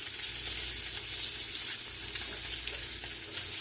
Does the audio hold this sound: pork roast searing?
yes